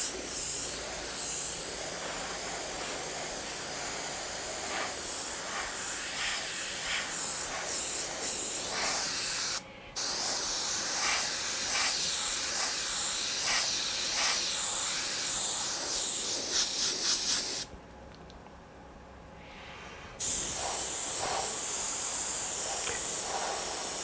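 An airbrush sprays opaque black paint onto canvas in a steady, loud, close hiss that runs almost the entire time, cutting out briefly twice before resuming; nobody speaks.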